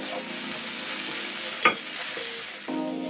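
Moringa leaves stirred and sautéed with spices in a pan, a steady close sizzle with a sharp scrape of the spoon midway and a louder burst of frying near the end; no one speaks.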